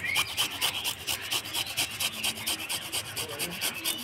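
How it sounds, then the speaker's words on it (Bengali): Fresh ginger being grated in a home kitchen, a steady run of quick rasping strokes at an even rhythm, close and fairly loud, with no talking. "এবার আদাটা আমি ঘষে নেব।"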